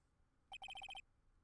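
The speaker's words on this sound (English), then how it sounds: "And what is this stupid sounding ringtone?" A phone ringtone playing the theme of the Phoenix Wright: Ace Attorney - Justice For All video game: a short, fairly faint burst of about six quick electronic tone pulses, heard alone.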